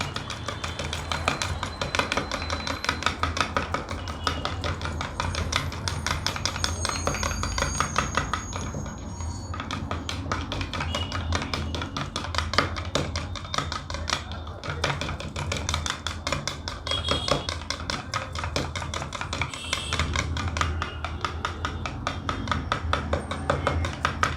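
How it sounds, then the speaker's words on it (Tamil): A homemade night cream mixture is beaten fast in a bowl, making a continuous, rapid clinking and tapping of the beater against the bowl that keeps an even, brisk rhythm for over twenty seconds. "அந்த அளவுக்கு நம்ம நல்லா அப்படியே பீட் பண்ணிகிட்டே இருக்கணும்"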